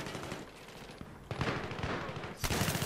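Rapid gunfire in Battlefield 3, quiet and somewhat distant, with bursts of automatic shots, a sharper volley near the middle and another near the end, and no talk.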